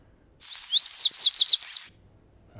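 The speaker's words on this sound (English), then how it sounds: "Next is the lazuli finch." Lazuli finch song played as a recorded example: a bright, rapid series of high chirps and tweets in a quick jumbled phrase about a second and a half long, loud and close, with no talk.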